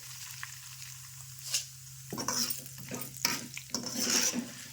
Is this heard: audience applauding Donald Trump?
no